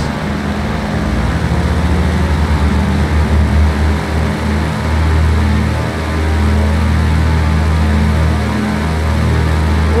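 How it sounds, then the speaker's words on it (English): Twin airplane engines drone at full power in a Microsoft flight game, a loud, steady, close propeller hum with slight surges and no voices. "We have power on both engines."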